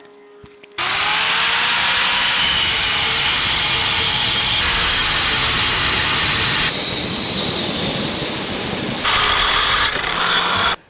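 A loud power tool cuts through 50mm square steel tube, a sustained harsh grinding roar that starts abruptly, runs steadily for about ten seconds with shifts in pitch, then cuts off.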